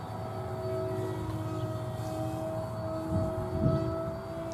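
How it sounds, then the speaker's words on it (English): Small RC Pelican plane with ailerons, driven by a 2812 electric motor and 7x6 propeller, buzzes overhead in a steady thin drone at moderate distance, swelling slightly as it passes, with no talk. "It's flying with a 2812 motor, a 7x6 prop, a 1300 milliamp 3S battery, and two MG90 servos."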